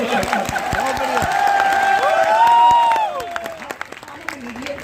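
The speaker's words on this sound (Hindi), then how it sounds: "मजा आया तो एक बार सारे लोग झूम के ताली बजा के" A poetry recital audience claps and cheers in a lively burst, swelling toward the middle and then thinning into scattered claps, with voices mixed in.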